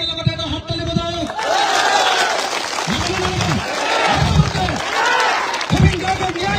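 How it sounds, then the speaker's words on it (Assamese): A crowd at an outdoor political rally breaks into a long burst of applause together, a dense, loud wash of clapping mixed with shouts and a voice over a loudspeaker. "সকলোৱে একেলগতে এটা হাত তালি বজাওক"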